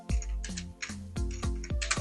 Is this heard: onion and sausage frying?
no